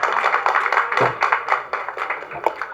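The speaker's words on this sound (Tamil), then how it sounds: "ஜெனிஸ்க்கு தான் கைத்தட்டல் அதிகமாக இருக்குது" Audience at a Tamil movie press meet for the film Pitha applauds as a guest walks on stage, a dense, steady round of clapping close by that carries on throughout without a break.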